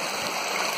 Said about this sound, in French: le sentier, ben, c'est plus une rivière qu'autre chose